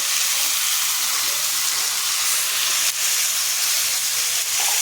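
Three medium tomatoes drop into frying onions for a fish curry, producing a steady, dense hissing sizzle that fills the whole stretch at close range without pause, no voices.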